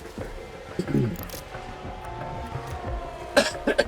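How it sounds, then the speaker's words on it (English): A person coughs in several sharp, close bursts near the end, after earlier throat noises, with quiet talk mixed in. "Excuse me for coughing."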